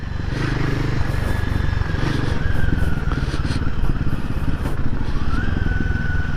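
A Royal Enfield Himalayan 450 motorcycle rides over rocky dirt, its engine droning steadily and close while the suspension and loose stones clatter and thump throughout.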